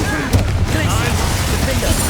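A Bombarda spell blast in Hogwarts Legacy gives a brief, dense explosive burst followed by a noisy, rumbling wash of debris, fairly loud and close.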